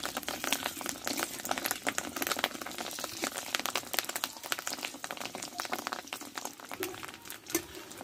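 Fish roe fritters fry in oil in a pan over very low heat, giving a steady, even crackle and sizzle that runs unbroken throughout, fairly soft and with no talking.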